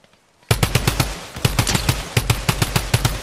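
Rapid bursts of video game gunfire crack out loud and close after a near-silent start, repeating in quick uneven volleys with brief gaps between them.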